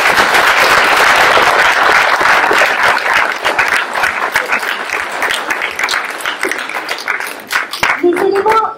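A crowd at a mayor's New Year ceremony in Campénéac claps for the CCAS members, starting loud and dense and then thinning into scattered, uneven claps that fade toward the end.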